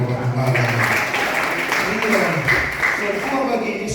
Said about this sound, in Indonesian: Kasih dulu tepuk tangan buat Bapak Gembala.